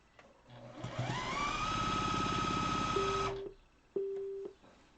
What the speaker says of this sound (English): my speaker's beeping because it's going to die